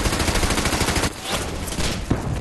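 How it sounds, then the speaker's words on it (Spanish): German machine guns firing in a World War II battle: dense, continuous bursts of loud rapid gunfire with brief pauses, filling the scene without any talk. "Tabb sucumbió a los disparos de las ametralladoras alemanas"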